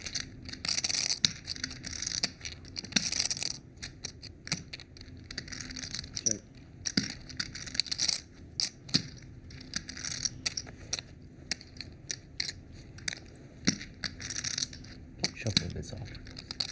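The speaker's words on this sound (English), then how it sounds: "Can you shuffle a bit softer, please?" Chips and cards are shuffled at a high-stakes poker final table, giving a constant crisp clicking and riffling, close and busy, with quiet talk in the background.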